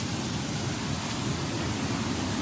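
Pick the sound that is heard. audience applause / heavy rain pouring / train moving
heavy rain pouring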